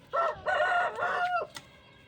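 A laying hen that has started skipping days between eggs calls out in three loud, drawn-out squawking bursts close by, with a short faint sound after them.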